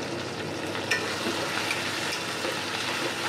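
Spices and sugar sizzle in hot oil for a thin Bengali chicken curry, a steady dense crackle with a few brief stirring scrapes, close and continuous with no voices.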